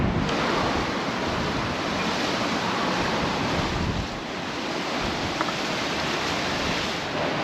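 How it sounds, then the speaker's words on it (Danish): Strong ocean surf breaks on a beach near Mazarrón in winter, a loud, continuous roar of crashing waves with heavy wind buffeting the microphone. "Kraftige bølger."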